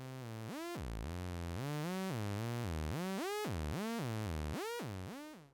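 A DIY modular synth noise and sample-and-hold module, with slew turned up, drives a buzzy tone through rounded pitch steps, gliding up and down in a steady pattern of swoops. Loud and alone.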